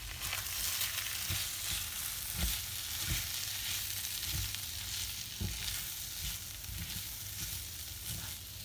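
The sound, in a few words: stirring rice frying in pan for arròs negre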